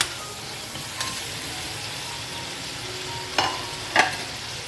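Fried pointed gourd sizzles steadily in a pan for chal potol, with a few distinct knocks and scrapes of stirring near the end, close and alone.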